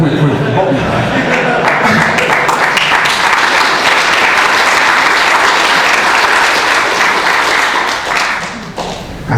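A crowd bursts into loud, sustained applause during a live monitoring demo at a Monitorama PDX 2015 workshop, with scattered chuckles mixed in. The clapping holds strong for about eight seconds, then thins out and fades.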